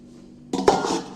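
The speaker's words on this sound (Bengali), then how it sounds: "একে আমি চাপা দিয়ে রাখছি" A metal lid clanks down over a pot of cooked, soft and dryish samosa filling: a sharp clatter with a ringing knock, near and brief, after a moment of quiet.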